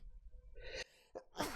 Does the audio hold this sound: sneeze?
yes